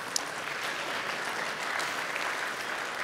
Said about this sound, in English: I can definitely appreciate all the applause for that